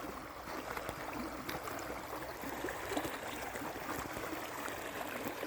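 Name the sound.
river flowing at the river's edge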